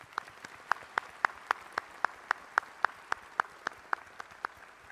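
A sparse round of clapping at a university graduate school commencement ceremony: a steady series of single sharp claps, evenly paced and moderately distant, with no voices.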